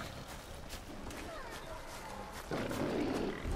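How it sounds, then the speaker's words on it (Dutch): A tiger roars in the prehistoric game Far Cry Primal, a moderately distant growling call that swells and grows louder partway through against a rustling game backdrop. "Ik hoor weer een tijger."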